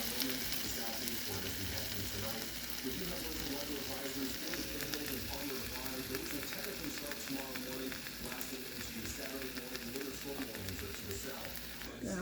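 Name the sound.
eggs frying in a pan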